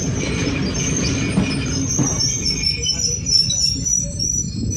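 A passenger train pulls into Negombo station on the Puttalam line, wheels rumbling and rails squealing at close range, the screech fading as the carriages slow.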